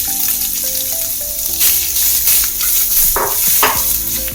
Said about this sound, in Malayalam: ഈ പാനിൽ തന്നെ നമുക്ക് തേങ്ങയും വറുത്തെടുക്കണം